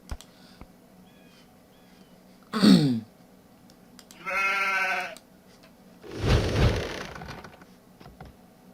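Sheep bleating in the video game Age of Empires II, three separate short bleats spaced a few seconds apart over a quiet background with faint clicks, loud and close, no talking.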